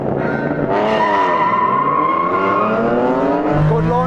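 A Honda NSX race car launches hard in a video game, its engine roaring loudly and rising in pitch through the revs, with a brief shift dip near the end.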